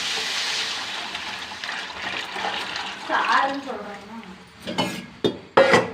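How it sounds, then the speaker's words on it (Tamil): Crab broth pours steadily into a pan, followed by a few clinks and splashes near the end, with faint background noise underneath. "இப்போ நம்ம அந்த சாறை நண்டு சாறை எடுத்து ஊற்றுறோம்"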